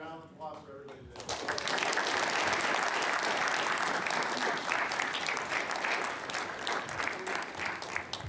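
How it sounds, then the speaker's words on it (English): A big round of applause from an audience at a fire protection district meeting breaks out after a second or so of speech and holds steady and loud, dense clapping filling the rest of the stretch. "one big round of applause for everybody today."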